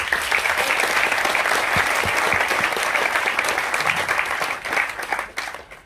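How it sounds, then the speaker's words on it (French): Sustained applause from an evening event audience honoring a guest, dense and steady clapping that fills the room before tapering off near the end. "je voudrais vraiment des applaudissements pour lui ce soir"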